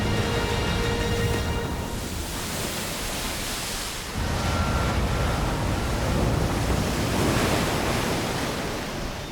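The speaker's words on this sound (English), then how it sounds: "their combined gravity draws the ocean up the shore with an enormous tide" Ocean surf surges up a shore under a strong spring tide, a loud, continuous roar of breaking waves and wash with wind buffeting the microphone and a brief lull partway through.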